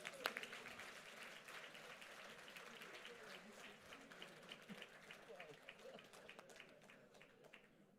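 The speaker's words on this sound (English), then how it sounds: "Come on, clap him up, please." A gala crowd applauds, a faint, dense roll of clapping with some cheering and voices mixed in, steady across the moment and tapering slightly at the close.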